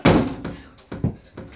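A basketball dunk on an outdoor hoop: a heavy slam and rattle of the rim and backboard, followed by a few softer thuds as the ball comes down and bounces, close and loud.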